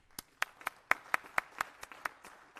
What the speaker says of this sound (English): Why don't we just give them a big round of applause?